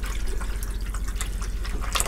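Water runs steadily through newly fitted household pipes, a close, continuous splashing trickle with a low hum underneath and no voices.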